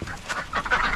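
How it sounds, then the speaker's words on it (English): A flock of farmyard ducks quacks in quick overlapping calls, close by and moderately loud, during morning chores around the chickens, with no one talking. "The ducks will run you over."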